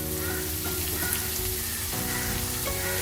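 Spinach fries in a pan with brinjal and potato, giving a loud, dense sizzle like rain on a hot surface that holds steady throughout and rises briefly as the greens settle into the oil. No one speaks.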